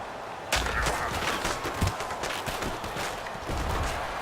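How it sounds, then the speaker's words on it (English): A missed field goal kick in Madden NFL 17 strikes the right upright with a single sharp bang, followed by a continuous rumble of stadium crowd noise. "And it bangs off the right upright, no good."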